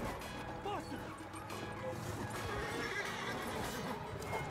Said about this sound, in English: My horse just walked over top of him.